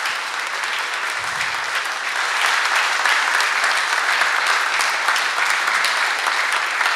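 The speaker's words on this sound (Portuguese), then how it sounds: "Vamos aplaudir a Deus nessa noite?" Congregation in a church applauding together, a steady wash of many hands clapping that swells slightly partway through and continues without a break.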